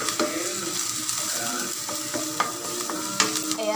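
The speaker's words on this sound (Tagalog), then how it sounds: "Mainit na yung ating oil. Igisa na natin." Garlic sautéing in hot oil for a sweet soy pork dish with star anise: a steady close sizzle with a few light scrapes of stirring, no talking.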